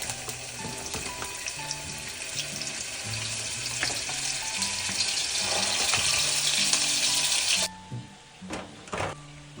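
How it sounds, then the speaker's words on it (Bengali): Potatoes coated with salt and food colouring frying in oil for kacchi biryani, a dense steady sizzle close by with occasional clinks, cutting off abruptly near the end to leave a few utensil knocks, no talking. "এবার আলুগুলো লাল লাল করে ভেজে নিব।"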